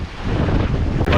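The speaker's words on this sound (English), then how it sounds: "There is strong wind" Strong wind roars steadily across the microphone at sea between Tonga and Tasmania, a broad rushing noise with buffeting gusts, no voices.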